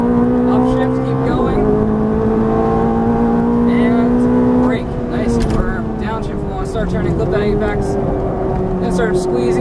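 A Ferrari F430 engine revs on track under throttle, a loud, sustained droning tone that rises and shifts in pitch, with the note dipping briefly midway.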